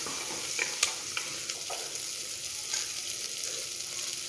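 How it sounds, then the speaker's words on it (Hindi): Vegetables frying in a pan for a creamy tomato soup. A continuous close sizzle is broken by light clicks and scrapes from stirring. "अब बाकी सब्जियां डालेंगे हम। इनको भी हम अच्छे से भून लेंगे।"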